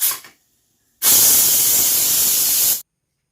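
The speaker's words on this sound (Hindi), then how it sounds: "कुकर में 2 बार सीटी आ चुका है" A pressure cooker on a stove boiling potatoes lets off a loud, steady steam hiss for nearly two seconds, preceded by a brief burst and ending abruptly into silence.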